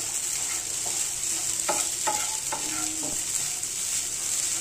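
Rice and crushed peanuts roast in a hot pan for khichdi, a steady sizzling hiss underneath a few close scraping stirs of a spoon through the grains, with no voices.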